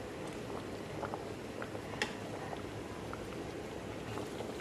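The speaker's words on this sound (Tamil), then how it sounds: "பாருங்கள் எண்ணெய் பிதுங்கி நல்லா கொதிச்சிருக்கு" Oil bubbling and sizzling in a pan during home cooking, a steady close crackling hiss with scattered small pops throughout, no talking.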